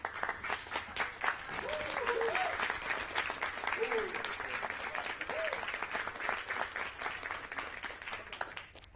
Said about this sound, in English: please stand and give our fellow ESPs a round of applause